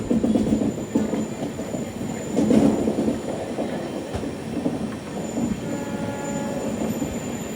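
The Ernakulam–Bengaluru Express sleeper train rolls along with a continuous rumbling rattle, rhythmic wheel clatter and faint metallic squeals, heard from inside at moderate loudness.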